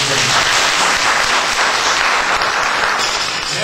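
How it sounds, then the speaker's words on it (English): An audience applauding at a bridal panel: loud, dense, sustained clapping from a crowd, even throughout with no talking. "Give them a round of applause"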